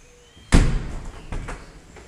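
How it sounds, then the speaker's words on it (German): A farm door swings closed by itself with a single solid thud, followed by a couple of softer rattling knocks as it settles. "wenn ich jetzt die Tür loslasse, man sieht schon, die fällt immer zu von alleine"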